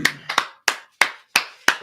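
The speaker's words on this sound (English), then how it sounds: "All right, clap it up." Six sharp, separate hand claps ring out in a slow, even rhythm, close and loud, with short silent gaps between them and no talking.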